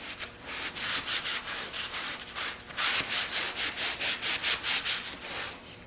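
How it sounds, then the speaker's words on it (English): A white lint-free cloth rubs briskly over a hot-tanked engine block for an M100 6.3, a close, steady series of rhythmic wiping strokes with no talking. "Give that a little wiping over."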